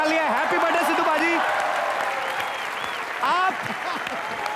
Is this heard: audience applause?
yes